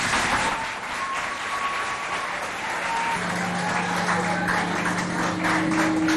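Steady applause fills a school quiz competition hall in Sarh, Chad, as the audience claps for two lycée teams, dense and continuous throughout, with a faint tone and murmur underneath.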